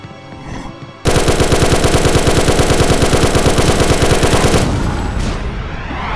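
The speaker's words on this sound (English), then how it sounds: "Tommy gun." A Tommy gun in a 2009 PC side-scrolling shooter fires one long rapid burst, loud and close, starting abruptly after a brief quiet lead-in and running about three and a half seconds before trailing off into game noise.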